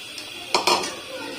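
Mutton nihari with flour is stirred in a pot, a spoon scraping and clinking against the metal in two quick close knocks over a steady low background.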